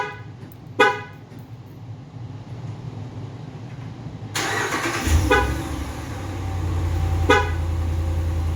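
A 2013–2017 Ram truck with a plug-and-play push-to-start remote starter: two sharp horn chirps, then the engine cranks and catches into a steady low idle, heard close outdoors without speech.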